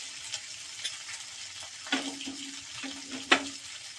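Ground cumin and coriander spices frying in a pan on a gas stove, a soft low sizzle with scattered stirring scrapes and a few sharp clinks of a spoon against the pan, fairly quiet overall.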